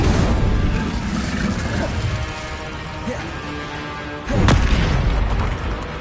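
Spell blasts in the Hogwarts Legacy video game, a dense booming rumble that swells into a sharp burst near the end, loud and close over layered game effects.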